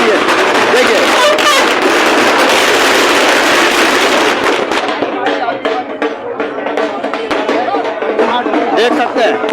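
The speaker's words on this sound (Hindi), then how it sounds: "देख सकते हैं पटाखों की गूंज के भी, ढोल धमाकों के भी" Loud bursts of firecrackers crackle and pop in rapid irregular succession at a celebration in Ajmer, India, merging into a dense roar, with crowd chatter underneath.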